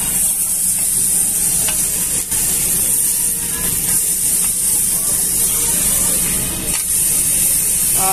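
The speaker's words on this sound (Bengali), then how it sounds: "প্রথমটা রান্না করতেছি, আশা করি খাইতে ভালো হবে।" Beef sizzling on a grill at a Japanese barbecue buffet in Manila, a loud, steady, close hiss of frying that runs throughout without a break, with no voices over it.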